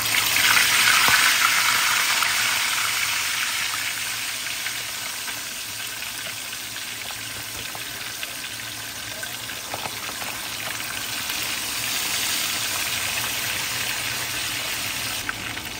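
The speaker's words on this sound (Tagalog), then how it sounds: "Lalagay na po natin ang isda. Mainit na po ang kawali." Fish frying in hot oil in a pan, a loud, steady, close sizzle that holds throughout with a slight surge near the start and no talking.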